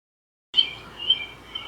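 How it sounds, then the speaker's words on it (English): Short high chirps of recorded birdsong played from speakers begin abruptly after a brief silence, a few quick calls in succession with no talking. "let's lay them down and hear some bird sounds"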